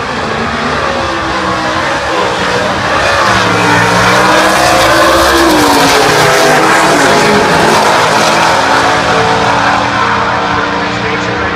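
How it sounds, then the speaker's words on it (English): Drag racing at a national event, with a 1955 Chevrolet station wagon carrying a 265 V8 and a 428-powered four-speed Mustang: a loud, sustained engine roar that rises and shifts in pitch throughout, with some talk underneath. "Wayne Denclaw, that 1955 Chevrolet station wagon with a 265, and Jeff Colburn, the GTD 428 4-speed powered, or 428 powered 4-speed 88 Mustang."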